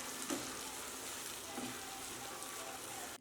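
Spices fry in oil for a chicken jhal fry, a quiet, steady sizzle and crackle with occasional stirring scrapes, cutting off at the end.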